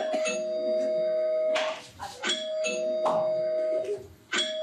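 A doorbell chimes repeatedly, several ding-dong rings in a row with ringing tones lingering between strikes, close and clear, no talking.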